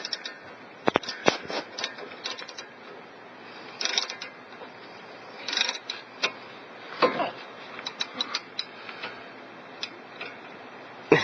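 Socket wrench ratcheting while tightening a brake bolt on a Toyota Sienna: irregular bursts of small metallic clicks and ticks, fairly close but modest in level, with some handling clatter between strokes and no talk.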